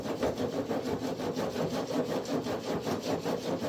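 Chunks of peat being broken up and fluffed by hand while setting up an Urban Worm Bag, a close, steady crumbly rubbing and scraping that pulses continuously with no talking.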